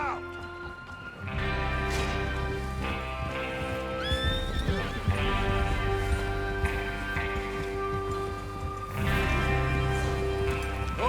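Horses gallop in Red Dead Redemption 2 as a gang rides out to rob a train, with rapid hoofbeats and a whinny over swelling game music and voices.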